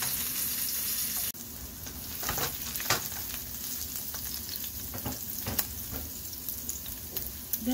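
Onion frying in a hot pan for breakfast hisses and sizzles steadily, a close, busy crackle with occasional stirring scrapes throughout.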